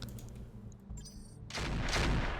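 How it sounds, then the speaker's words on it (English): Twin cannon shells fire from an Emperor BattleMech in a video game: a quiet opening gives way to a loud, sustained barrage of booming shots that fills the last second of the clip. "Twin cannon shells."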